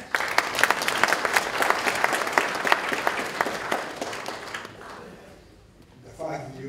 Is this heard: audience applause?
yes